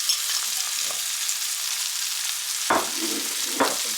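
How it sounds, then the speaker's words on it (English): Bacon sizzles steadily in a frying pan with beef liver and onions, a loud continuous crackling hiss with two sharper bursts near the end as pieces are moved around. "And then I'm going to add my delicious bacon."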